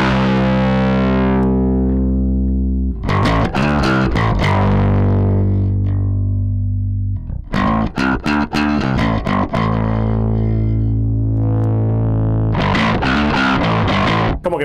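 Electric bass played through an Aguilar Tone Hammer 350 amp head, heavily driven and distorted, in bursts of sustained notes and quick rhythmic phrases separated by ringing decays.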